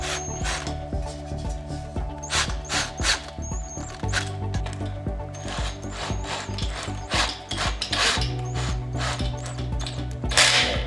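Tightening bolts by hand while assembling metal display shelving: continuous close, loud ratcheting and rubbing clicks in irregular bursts, with metallic scraping and a steady background hum throughout, no talk.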